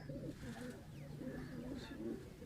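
A chapra pigeon, the lead male of the loft, coos softly in low repeated throaty rolls, faint and distant against a quiet murmuring background.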